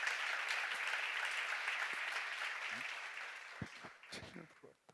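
Applause from a congregation at a church seminar, broad and steady for about three seconds, then thinning into scattered claps as a voice comes in.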